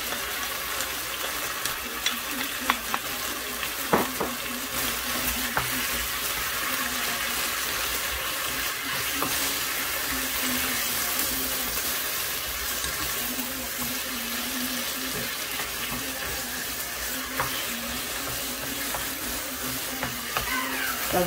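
Tomato, celery, shallot, garlic and pepper frying with potatoes in a pan make a steady, loud sizzle that lasts the whole time, with occasional light clinks of stirring.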